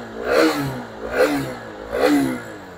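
A second-hand RS motorcycle's engine is revved three times in close succession, each throttle blip rising in pitch and then falling back to idle, heard up close with no talk.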